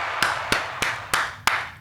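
Five sharp hand claps come in a slow, even rhythm for a guest on a podcast. They are close and distinct, with short gaps between them.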